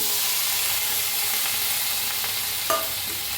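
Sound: sliced onion added to a hot iron kadai, sizzling

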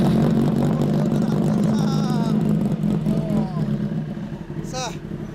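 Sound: 2008 Kawasaki ZX-10R motorcycle exhaust with stock muffler

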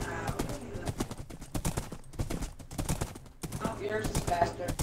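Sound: horse hooves galloping, from video game Arma 3

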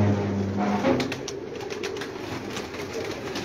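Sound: pigeons cooing

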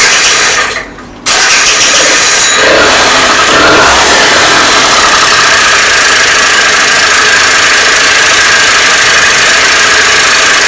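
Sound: Suzuki Lets 2 scooter engine running after repair

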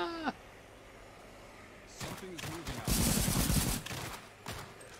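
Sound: gunfire in the video game Cepheus Protocol

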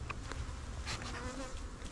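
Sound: honey bees buzzing around nuc hives

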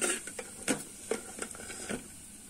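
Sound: dry fruits frying in ghee

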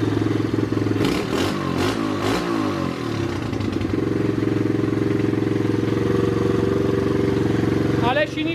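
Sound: Loncin 110/125 motorcycle engine running after turbo rebuild

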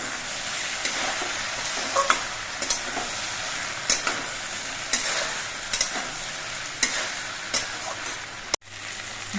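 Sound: stirring okra and potatoes frying in pan

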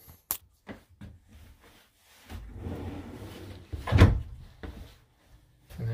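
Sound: large deep drawer opening and closing in a van cabinet

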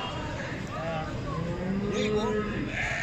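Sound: goats bleating at a livestock market

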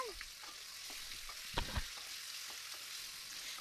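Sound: frying on low flame for egg biryani

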